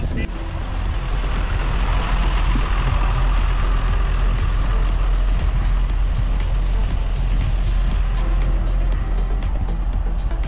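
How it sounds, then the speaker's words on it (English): A tractor tows a car away from a hay bale barrier, with a steady, loud engine rumble filling the whole stretch and faint repeated high clicks or beeps above it, while people talk nearby. "So we have the last car here. We're towing it behind the tractor with Keith in there."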